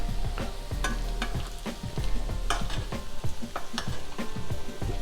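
Bite-sized steak pieces sizzle loudly in garlic herb butter while being basted, with continuous close frying crackle broken by repeated scraping and clatter of a spoon or utensil against the pan.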